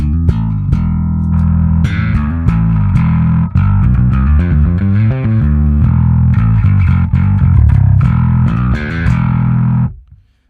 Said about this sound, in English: So now let's try out the vintage Microtubes,